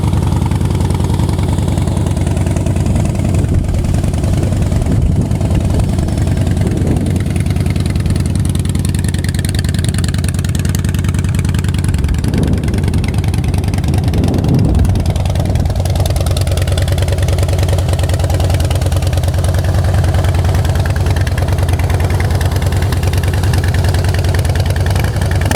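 A Harley-Davidson Heritage Softail Custom FLSTC motorcycle with 8,654 miles idles steadily and loudly up close, its low, even engine rumble lasting throughout, with a couple of small swells in the middle and no talking.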